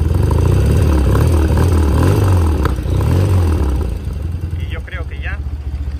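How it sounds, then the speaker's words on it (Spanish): Restored BMW R100 RS motorcycle engine idling steadily after starting on the first try in cold conditions, a close, even low chugging throb that runs under someone speaking Spanish and fades slightly toward the end. "se mantiene al ralentí perfectamente"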